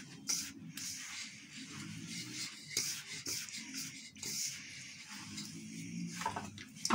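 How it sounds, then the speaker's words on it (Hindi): Dough for meethi khurmi kneaded by hand, with small splashes of water worked in, making soft, continuous squishing and rubbing sounds up close, at a low, even level with no speech. "फिर गूंदेंगे हम।"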